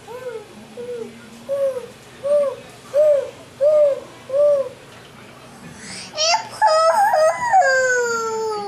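A young child imitates an owl's hoot with a series of six rhythmic, rising-falling hoo calls, close and clear, followed by a louder, higher wailing vocal burst.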